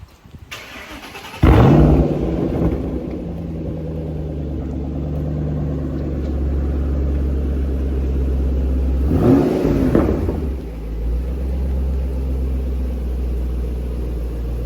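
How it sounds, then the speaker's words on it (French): An American car engine cranks and catches with a sharp start, idles with a low rumble, then gets a brief rev partway through, in heavy rain. "Est-ce que tu peux démarrer la voiture s'il te plaît?"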